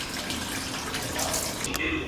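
Fresh well water at Hakone Shrine runs in a steady, close, rushing stream, splashing continuously without a break and with no talk over it.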